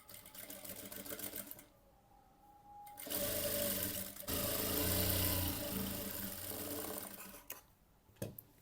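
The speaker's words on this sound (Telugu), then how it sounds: "ఇప్పుడు మనం దీన్ని ఫ్రంట్ పార్ట్కి ఇలా పైనుంచి పెట్టుకొని స్టిచ్ చేసుకోవాలి" A sewing machine stitching blouse fabric runs in steady close bursts, a fast mechanical whir that stops and restarts, with quieter handling of cloth in the pauses and no voices.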